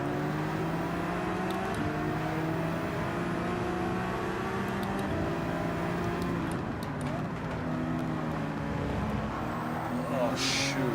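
Race cars from the Gran Turismo 7 Manufacturers Cup at Barcelona engine-droning together in a steady, layered roar with shifting revs throughout, close and continuous, with a brief brighter burst near the end.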